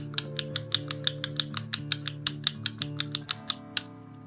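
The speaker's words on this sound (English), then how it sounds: "It sounds like a light switch." Rapid, crisp plastic clicks from the switch on an Exgreem fidget cube, about twenty sharp snaps in quick irregular succession, close and alone over a faint background hum.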